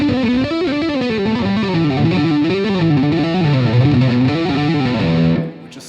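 Metal electric guitar on the neck pickup with muted picking, a smooth, bass-heavy distorted riff moving through a run of notes for several seconds, loud and alone, then cut off abruptly.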